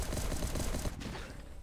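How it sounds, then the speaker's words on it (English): Gunfire in the survival game Last Day on Earth during a raid on a stone base: a dense burst of rapid shots, fairly loud and close, thinning slightly toward the end. "Right, let's gun all of them down."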